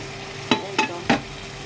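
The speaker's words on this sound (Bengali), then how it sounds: "মশলা ভুনা করে নিচ্ছি" Spices fry for a bhuna in a pan on the stove ahead of a fish dish, with a steady close sizzle and three distinct stirring scrapes at an even rhythm, and no one speaking.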